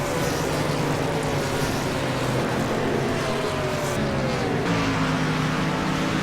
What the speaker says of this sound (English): Now we're following the 7th place car, 71 that Jim Barris saw.